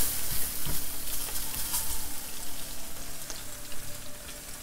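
A chicken burger ingredient softening in hot oil in a pan, sizzling steadily and close, with crackling pops and a few scraping clicks from turning it.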